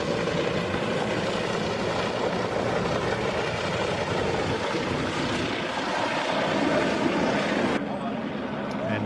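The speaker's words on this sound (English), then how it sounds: "That's the first helicopter on scene." Steady, loud rotor and engine roar of a Bell 222 helicopter at a crash scene in Huntington Beach, continuous throughout with no letup, close and dominating.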